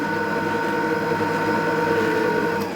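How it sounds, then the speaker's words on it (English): Honey and condensed caramel are whisked steadily in a bowl until they thicken, giving a continuous even whirring and scraping drone at close range that holds at a constant level throughout with no talk. "while that is whisking and starting to thicken"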